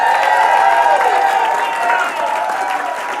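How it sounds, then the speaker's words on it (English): Workshop audience cheering loudly and continuously, a dense crowd roar with clapping and whoops, close and sustained, easing slightly toward the end. "So if we could have 10 seconds of the loudest cheering you've ever done."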